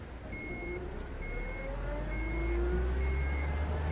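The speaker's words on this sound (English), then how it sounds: "Crap, they started the engine." A truck engine idles in the video game Unmetal as a deep, steady rumble that swells slightly while it starts to drive off, with thin electronic tones repeating above it and no speech.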